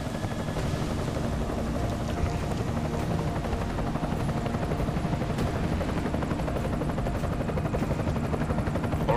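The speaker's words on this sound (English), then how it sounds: "that's an interesting looking helicopter" Helicopter flying in the Deus Ex: Mankind Divided video game, a loud steady rotor roar that fills the whole stretch without pause, with no talking over it.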